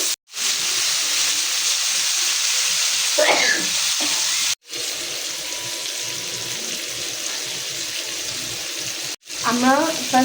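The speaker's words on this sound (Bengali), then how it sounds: "এবার মাংস দিয়ে দিচ্ছি।" Beef steak sizzles loudly in hot soybean oil and butter, a steady close crackling hiss that cuts out briefly twice, with faint voice-like sounds at a couple of points.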